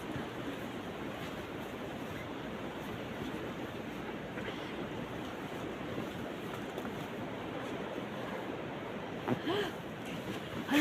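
Strong gale wind during a Maine blizzard roars and buffets the microphone in a steady, dense rush, with a few brief gusting swells near the end.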